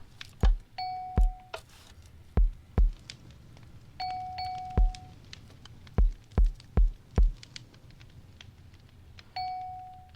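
A bell in Minecraft on a Hermitcraft server rings out in a code signal, loud, clear dings spaced irregularly, some in quick pairs, mixed with sharp percussive knocks in an uneven rhythm.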